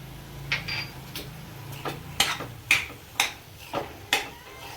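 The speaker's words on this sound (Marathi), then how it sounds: "विलायची पावडर मिक्स करून घेणार आहोत।" A spoon stirs cardamom powder into pineapple shira in a pan, making a series of sharp metallic clinks and scrapes about every half second, moderately close, over a soft low hum with no talking.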